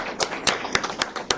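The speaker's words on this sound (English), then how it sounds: "why don't we give a big round of applause for these two middle schoolers for competing" A few scattered claps from a small audience at a county commissioners meeting, honoring two middle school competitors; about half a dozen distinct, close-sounding claps spaced irregularly over a short stretch.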